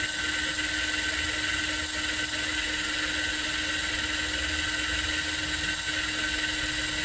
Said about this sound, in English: start priming your lines with the drill running in reverse